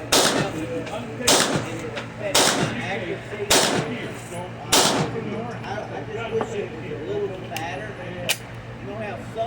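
A Gen 5 Glock 26 pistol fired on a range, five loud sharp shots at roughly one-second intervals followed by a couple of fainter distant reports, with people talking throughout.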